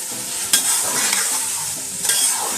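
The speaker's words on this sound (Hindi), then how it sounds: "मसाले को हल्का भून लेंगे।" Masala spices for chicken biryani are stir-fried in a pan, making a continuous close sizzle broken by two sharp scraping stirs, one early and one near the end, with no voices.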